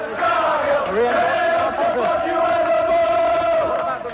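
Striking miners cheer and chant as union leader Arthur Scargill arrives in 1984, a dense, loud crowd roar of raised voices sustained throughout.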